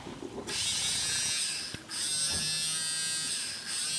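A small electric motor inside a geared toy runs with a loud, high buzzing whine, starting abruptly, briefly cutting out and restarting, then holding steady up close.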